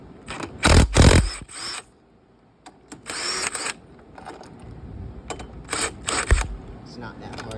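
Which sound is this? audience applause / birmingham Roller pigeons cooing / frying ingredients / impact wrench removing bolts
impact wrench removing bolts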